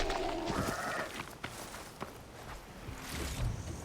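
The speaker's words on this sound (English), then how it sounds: "Oh, a goat!" A goat bleats in Horizon Forbidden West, a close wavering cry at the start followed by soft footsteps and scattered game sounds, with no talking.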